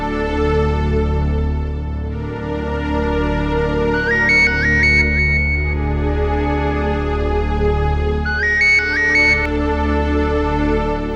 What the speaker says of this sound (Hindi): सुनील को फोन लगाता हूँ।